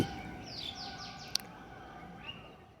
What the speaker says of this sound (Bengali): চতুর্দিকে অনেক পাখির শব্দ পাচ্ছেন আপনারা